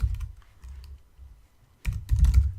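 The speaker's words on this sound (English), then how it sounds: "So we'll just type" Close typing on a computer keyboard, a quick cluster of keystrokes, a quiet pause, then a denser burst of clicks at the end.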